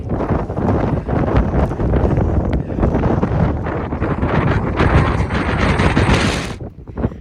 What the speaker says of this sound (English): Starting to get a bit windy.